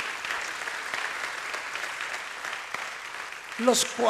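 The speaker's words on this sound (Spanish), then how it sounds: "Regálele un aplauso a nuestro Dios, porque Él se lo merece." A church congregation applauds steadily in a moderately loud, even wash of clapping, with a voice rising briefly near the end.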